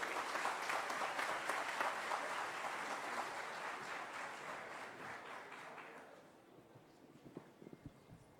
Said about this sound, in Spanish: Recibamos con un fuerte aplauso al doctor Meléndez.